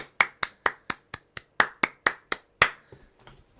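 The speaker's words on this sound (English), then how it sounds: "Can we get a big round of applause, please, for Richard in the chat?" A lone person claps for a game jam entry, about ten crisp, close handclaps in a steady rhythm, then a few softer scattered taps that trail off into quiet.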